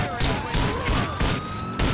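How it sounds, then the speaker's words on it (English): Rapid gunfire at a car windshield in GTA IV, a loud close burst of repeated shots in quick succession filling the short moment. "just shooting the windshield"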